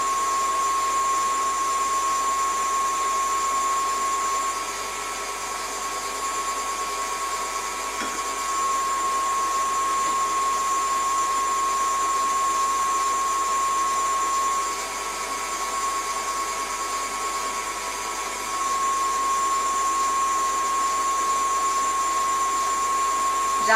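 An electric mixer beats meringue with a steady, close whirring drone and a thin high whine, dipping in pitch briefly twice before picking back up. No voices.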